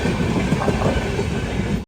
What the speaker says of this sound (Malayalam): കേരളത്തിലെ ഈ ട്രെയിനിൻ്റെ ആദ്യത്തെ സ്റ്റോപ്പായ പാലക്കാട് ജംഗ്ഷൻ സ്റ്റേഷനിലേക്ക് ഇതാ ട്രെയിൻ എത്തിക്കൊണ്ടിരിക്കുകയാണ്.